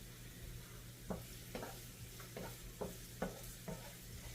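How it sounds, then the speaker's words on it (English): Butter browning in a pan, a soft steady sizzle with a series of regular stirring scrapes about every half second, close but quiet. "So I'm going to show you how we brown butter."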